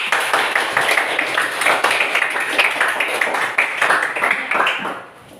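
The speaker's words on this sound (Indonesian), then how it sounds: "Beri tepuk tangan untuk kalian." A classroom of students claps together after a question-and-answer session, brisk close clapping that stays steady for several seconds before tapering off at the end.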